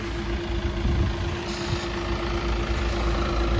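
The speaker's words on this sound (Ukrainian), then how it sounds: "ось так працює двигун, все рівномірно, муркоче, так як і має бути" A Peugeot 508 GT 2016 2.0 HDI diesel engine idles nearby with a steady, even low rumble and a constant hum, no voices.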